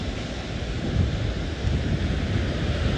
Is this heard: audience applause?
no